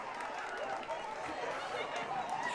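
A home crowd roars and cheers in the stands of a high school football game, Greencastle at Frankfort, a steady loud wash of many voices with shouts rising and falling throughout.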